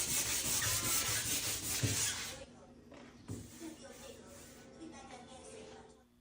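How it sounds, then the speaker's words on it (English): A primed wooden cabinet being sanded by hand with 220 grit sandpaper, close rubbing strokes that are loud at first, then thin out into lighter, intermittent scrubbing. "that's sanding after the primer"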